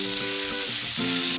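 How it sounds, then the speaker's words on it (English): A steady, close sizzle of tomato paste frying in a hot pan, with faint stirring scrapes underneath. "Fry it up so that it stops smelling pretty damp."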